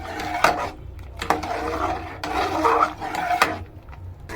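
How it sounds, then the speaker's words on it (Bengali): A spoon scrapes and stirs a sugar and milk mixture in a pot while dudh puli pitha cooks, giving repeated close rasping strokes in an irregular rhythm with no talk. "চিনি দিয়েছি বলে না আমাকে একটুখানি নাড়তে হচ্ছে, নাহলে লেগে যাবে।"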